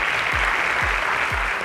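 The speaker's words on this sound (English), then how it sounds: "Please give yourselves a round of applause." Students in a televised school competition applaud themselves, a bright continuous burst of clapping with a few low thumps beneath it, steady and fairly close throughout the short stretch.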